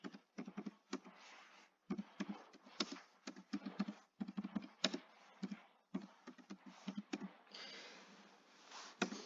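Typing a school name on a computer keyboard, quick irregular clusters of close key taps with short pauses, no talking.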